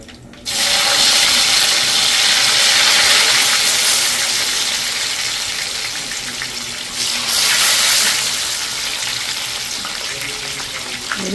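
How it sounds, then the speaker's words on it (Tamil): Raw plantain pieces deep frying in boiling oil, a loud steady hiss and crackle that begins abruptly and holds throughout with a brief surge partway through, no voices. "வாழைக்காய் இப்போ நாங்கள் பொரிக்க போகிறோம்."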